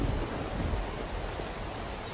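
Steady rain in the survival game SCUM, a dense broadband wash of falling water, loud and unbroken throughout.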